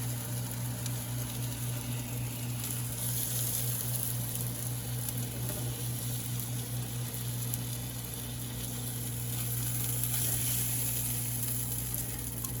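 Chicken for chicken francese sizzles steadily in a pan, a continuous broad hiss with faint crackle that holds at an even, moderately loud level throughout with no talking.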